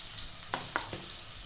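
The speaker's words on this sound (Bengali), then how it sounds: "আলুগুলো সেই সময় ভাজা হচ্ছে" Potatoes fry in a pan, giving a soft steady sizzle with a few sharp clicks of stirring, close and fairly quiet.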